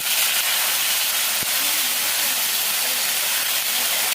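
Vegetables hit a hot pan of tempered oil and fry with a loud, dense, continuous hiss close by that holds steady and then cuts off abruptly at the end.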